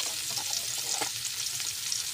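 Noodles fry in a pan with a steady, close hiss and crackle, with a few brief stirring scrapes; no voices.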